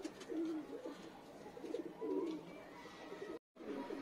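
Pigeons, a pair of Madrasi pigeons, coo softly and repeatedly in low, throaty bursts, fairly close, with a brief drop to silence near the end.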